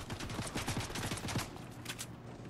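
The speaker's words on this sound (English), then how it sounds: "Getting shot from the north somewhere." Gunfire in the video game Fortnite rattles off in rapid volleys of shots, steady and fairly loud for a couple of seconds, with no voices over it.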